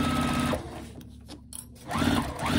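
A sewing machine back stitches the seam of a fabric car trash bag, a close, loud mechanical whir that stops briefly, then restarts with rapid stitching.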